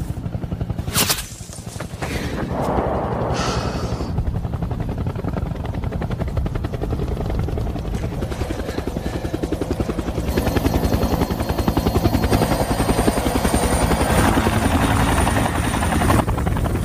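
In a war film about an Iraqi sniper, a helicopter drones loudly and steadily with a throbbing rotor buzz that builds as it arrives, after a few sharp gunshot-like cracks near the start.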